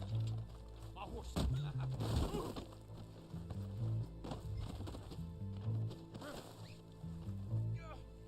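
A horse in the Red Dead Online video game gallops with rhythmic clip-clop hooves and whinnies, under game music and a person talking.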